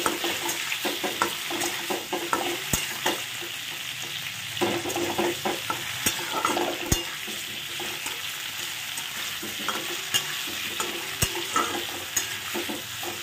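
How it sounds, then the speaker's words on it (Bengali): Garlic and black cumin fry lightly in a pan on a home stove before boiled red lentils are added, giving a steady, close sizzle broken by scrapes and taps of a stirring spoon. "একটু হালকা হাতে ভেজে নাও"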